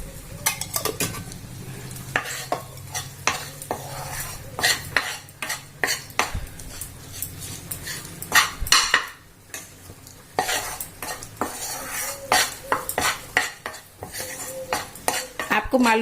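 Dal halwa being stirred and fried in ghee in a metal kadai, with repeated scraping clinks of a spoon against the pan over a low sizzle, steady and close with no talking.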